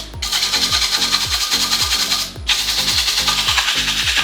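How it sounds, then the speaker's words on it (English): Hand-sanding a wooden bowl with paper on a turning lathe gives a steady rhythmic rasping with regular low thumps from the spinning piece, a brief break midway, then continuing close and loud. "you can sand it just like this, no problem"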